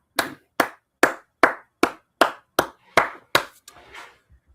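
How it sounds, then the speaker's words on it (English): About nine sharp hand claps land in a steady, evenly spaced rhythm, close and crisp with quick decays, followed by a faint scuffle of softer noise. "Clap it up."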